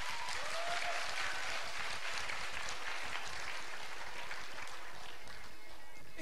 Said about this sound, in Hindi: जोरों से बजनी चाहिए तालियां,